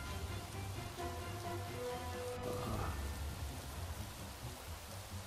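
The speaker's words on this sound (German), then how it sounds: "Draußen regnet es wie kaputt." Steady rain pours down outside in the video game Craft the World, a soft continuous hiss with scattered droplet patter and a faint low rumble, quiet and unbroken throughout.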